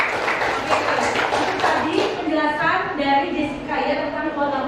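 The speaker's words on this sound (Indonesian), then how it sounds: "berikan tepuk tangannya ya" Classroom applause for a student after her presentation, a brief burst of clapping from a group that quickly fades as a voice continues talking over it.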